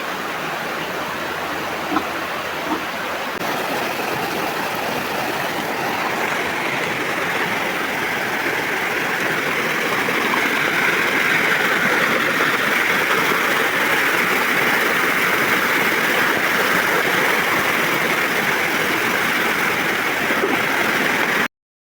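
Water rushing steadily through a hillside stream near a pig farm during flooding, a continuous broad roar that stays close and loud throughout and thickens slightly midway, with no voices.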